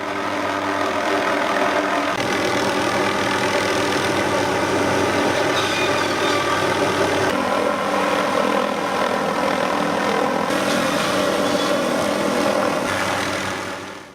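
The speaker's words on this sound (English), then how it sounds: "The tree saw hangs below the helicopter from an aluminum tube, and the tube basically just is a carry mount for the saw." An MD 500 helicopter carrying a gas-powered tree saw hung from an aluminum tube drones steadily and loudly overhead, its rotor and engine noise continuous throughout with no speech.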